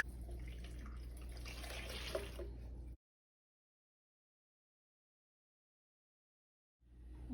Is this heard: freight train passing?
no